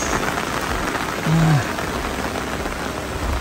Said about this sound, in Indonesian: Alhamdulillah guys, setelah pasang tenda, hujan guys.